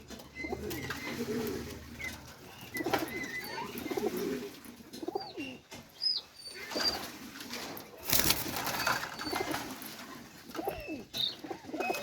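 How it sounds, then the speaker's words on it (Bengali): Domestic high-flyer pigeons in a loft coo repeatedly in soft, throaty, overlapping calls close by, with occasional wing flutters and faint background noise, and no clear talk. "আমার উপরে খোপের ভিতরে কিছু কবুতর আছে"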